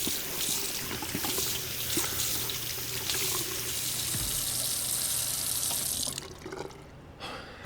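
A tap runs in Twin Mirror, a steady bright stream of water splashing into a sink for several seconds before cutting off, leaving faint room tone.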